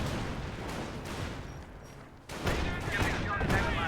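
Bofors emplacement firing in the video game Company of Heroes 1, a dense run of overlapping gunfire bursts under game ambience, growing louder and sharper in the second half.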